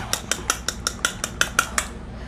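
A fork beats eggs in a bowl for an 18th-century-style pecan pie: about ten quick, evenly spaced clinks of metal against the bowl, close and clear, then a short quiet tail.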